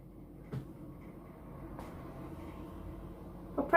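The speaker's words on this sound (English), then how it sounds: "Fridge freezer started making a funny noise this morning." An old fridge freezer gives off a faint, uneven rattling and tapping over a low hum, with a few sharper knocks standing out near the start and end.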